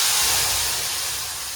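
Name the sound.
asafoetida tempering sizzling in hot oil for bhungla bateta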